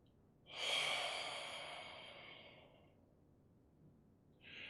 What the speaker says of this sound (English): Watch my breathing.